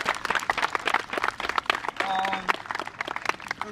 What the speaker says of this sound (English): So can we just clap it up, please?